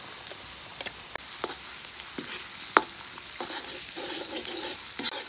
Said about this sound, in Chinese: 这豆豉熬了，把那水分往外熬一下了